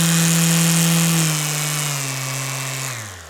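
An electric sander at medium speed whirs on soft wood with a steady high-pitched motor tone and gritty scraping, then slows and winds down at the end.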